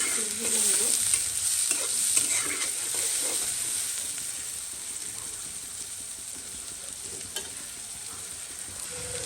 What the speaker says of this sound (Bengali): তেলের মধ্যে পেঁয়াজ মরিচ আর হচ্ছে এলাচ গরম মশলা এগুলো দিয়ে দিচ্ছি পেঁয়াজটা